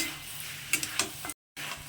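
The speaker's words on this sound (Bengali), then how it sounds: "তো এটাতে এখন দু মিনিট এটার সঙ্গে একটু ভাজা ভাজা করবো" Chicken with ginger fries quietly in a pan, a soft continuous sizzle with a few light scrapes and stirs of a utensil, then a brief drop to silence before the sizzle resumes.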